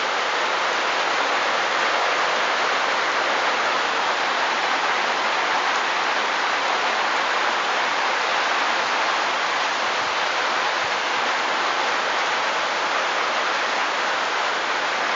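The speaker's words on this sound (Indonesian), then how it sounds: "Apakah hujannya sama deras atau nggak ada hujan?" Heavy rain pouring steadily, a dense continuous hiss that stays loud and even throughout with no voices.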